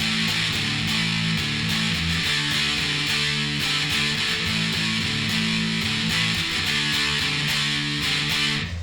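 Electric guitar chords strummed in a steady repeating rhythm, bright and full, ringing continuously without any voices.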